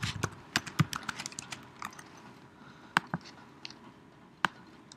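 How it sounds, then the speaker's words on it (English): An admin password typed on a computer keyboard: quiet, close, irregular key clicks in a quick burst at first, then a few sparse louder taps. "You have to type your admin password in."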